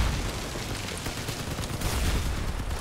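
Dense, sustained machine-gun fire in the vehicle combat game Crossout, a continuous loud rattle of rapid shots with booming low rumble, heard alone without talk.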